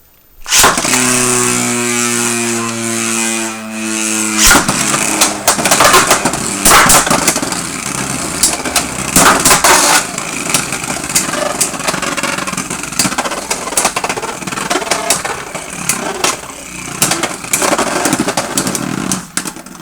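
Two Beyblade X spinning tops, Phoenix Wing 5-70 R and Wizard Rod 9-80 GN, are launched and clash in a plastic stadium: a ratchet whir, then loud continuous grinding and rattling with sharp knocks throughout.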